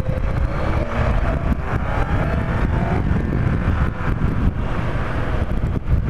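Motorcycle with a newly replaced rear tire accelerating hard, a steady loud engine roar heavily buffeted by wind rush against the microphone throughout, with no voices.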